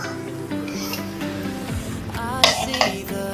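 A cake pan is set down into a pressure cooker in a kitchen, giving a few metallic clinks and scrapes near the end over a steady low background hum.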